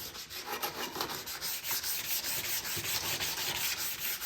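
Hand sanding with 400 grit sandpaper on a 2022 Polaris Sportsman 450 HO being rebuilt, a steady close rhythmic rasping with quick back-and-forth strokes running throughout.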